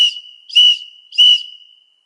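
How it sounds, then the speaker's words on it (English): An emergency hiking whistle is blown three times as an SOS signal: loud, close, piercing blasts over one continuous tone, with no other sound around them. "you're going to take your whistle and you're going to blow it 3 times"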